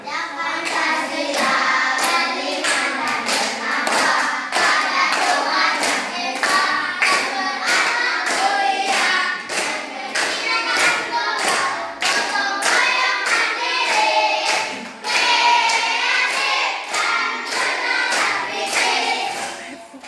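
A fourth-grade class of children claps together in a classroom on a teacher's cue: dense, rapid, loud hand claps fill the whole stretch with a continuous rattling texture.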